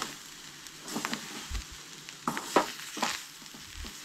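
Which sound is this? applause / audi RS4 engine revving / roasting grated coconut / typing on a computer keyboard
roasting grated coconut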